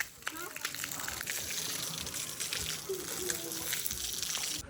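Water sprays steadily from a hose fed by a motor pump onto a rooftop slab, a continuous broad hiss filling the whole stretch with voices faintly underneath.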